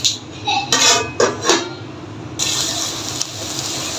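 Metal pot lid set down on a cooking pot of simmering water with bottle gourd leaves and garlic, a few sharp clinks and clatters near the start followed by a steady hiss of steam or boiling.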